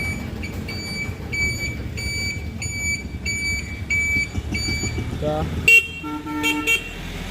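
A Honda CD 80 motorcycle horn beeps in a quick series of short regular blasts, then gives a few louder honks near the end over a low engine hum.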